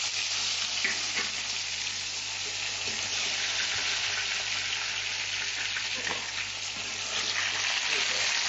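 Tomatoes hiss and fry in hot oil in a pan for tomato pickle, a loud continuous close sizzle with occasional soft stirring knocks, and no talking.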